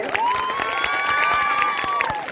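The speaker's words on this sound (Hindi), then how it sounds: "जी सर के लिए जोरदार तालियां।" Children cheer and clap at a government senior secondary school event, a steady loud wash of shouting voices with a sustained high tone over continuous clapping throughout.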